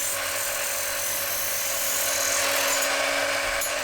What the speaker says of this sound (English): I'm guessing it's going to cut through this piece of copper pipe I have.